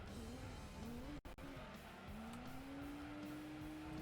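A race car in Gran Turismo 2 braking hard, its engine tone holding steady and then rising again, with tire noise underneath and a brief dropout partway through.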